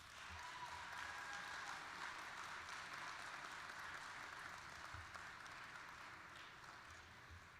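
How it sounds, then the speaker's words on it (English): Applause from graduating students at a fall university commencement ceremony, a steady wash of many hands clapping in a large hall, sustained and fairly faint throughout with no one speaking. "take a minute to show your appreciation for the support of your family and friends with a round of applause of your own"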